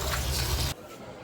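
Leafy greens being rinsed in water, with a loud, steady splashing and running-water rush close by that stops abruptly partway through, leaving near quiet.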